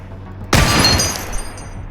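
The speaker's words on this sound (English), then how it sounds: "That's the sound of all the ammo spilling out of the gun." Ammunition spilling out of a gun in a video game, a sudden loud clattering crash that breaks out after a quiet start and then trails off into scattered rattling debris over a low hum.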